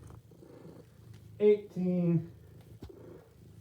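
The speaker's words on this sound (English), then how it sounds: "Oh, the purrs." A cat purrs softly and close by in a low, continuous rumble, while a person counts out loud over it at a steady pace.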